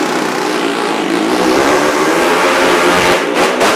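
A motorcycle engine revs loudly and steadily for a few seconds, a dense broadband roar that holds close and strong throughout with no talk.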